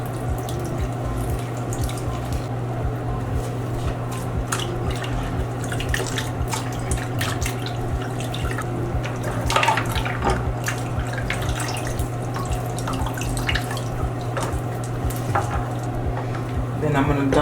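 A decorative embellished face mask is swished and submerged in a basin of water, giving scattered soft splashes and drips over a steady low hum, quiet and close.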